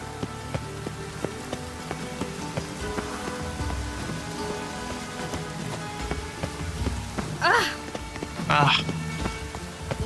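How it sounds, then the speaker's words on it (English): Steady rain falling in the video game The Witcher 3, a continuous hiss under game sounds, with a couple of louder swooshing bursts near the end and a brief spoken exclamation. "Lots of fuss over lots of rain."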